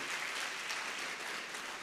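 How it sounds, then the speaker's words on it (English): Applause from a seated audience at a university medical faculty event, a dense, even wash of many hands clapping throughout this brief moment with no voices over it. "a huge round of applause for her again"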